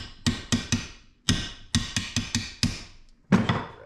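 Socket extension being tapped onto a bolt on a Polaris 700 engine during teardown: about a dozen sharp metallic hammer taps, close and loud, in uneven bursts with short pauses between.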